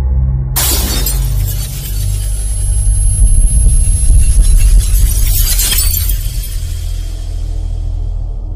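A mirror shatters with a loud, sudden crash of breaking glass, a second burst of tinkling shards following, over a low rumbling drone.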